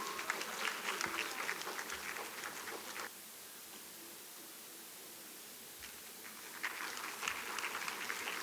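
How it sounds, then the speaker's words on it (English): Applause from an audience at a national moot court competition prize ceremony, a dense wash of clapping that dips to quiet midway and then swells again. "Once again, let's give a huge round of applause to all the winners and also the other participants"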